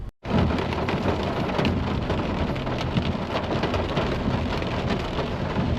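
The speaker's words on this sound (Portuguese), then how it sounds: "Chove nessa tarde arrastada em Porto Alegre." Heavy afternoon rain in Porto Alegre makes a loud, steady roar of falling water that fills the whole stretch without a break, with a low rumble running underneath.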